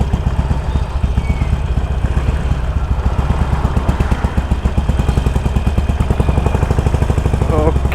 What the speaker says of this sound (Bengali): এখানে একটা জোস বাইক আসছে, Harley Davidson 45 1200 CC V2 engine.